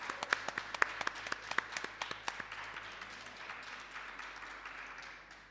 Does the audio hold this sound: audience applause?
yes